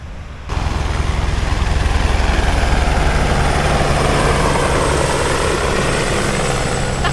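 A helicopter's rotor thrums steadily and loudly nearby in Rio de Janeiro, a continuous low beating drone with broadband whooshing that holds for several seconds.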